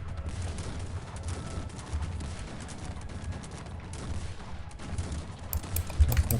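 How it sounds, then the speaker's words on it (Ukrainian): Rapid, continuous gunfire and cannon blasts from a battle in the video game Cossacks 3, dense and steady throughout, with heavier booms near the end. "Гармати. Стріляйте по цим."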